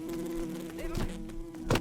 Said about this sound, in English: Just don't want to get hit by bees